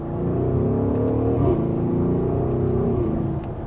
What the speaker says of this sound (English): Minor acceleration, you can hear that exhaust, which is definitely beefy.